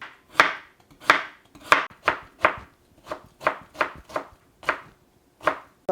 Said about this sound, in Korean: 색깔을 좀 맞추기 위해서 당근을 조금 작게 채 썰어서 넣어볼게요